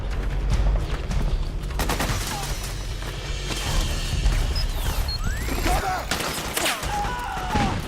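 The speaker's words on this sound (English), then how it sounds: "Suppressing fire!" Suppressing gunfire in Metal Gear Solid 4, loud sustained bursts of automatic fire mixed with crashes and impacts, close and chaotic, with whizzing sounds and explosions layered in the battle.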